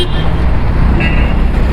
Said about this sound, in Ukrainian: Машини сигналять, як завжди.